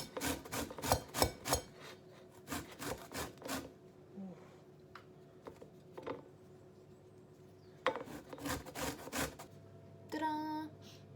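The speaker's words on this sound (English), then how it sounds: "grab your oranges and zest them" Oranges, easy peelers, are zested on a grater in a kitchen, giving repeated quick rasping strokes in bursts with pauses between, close and fairly quiet.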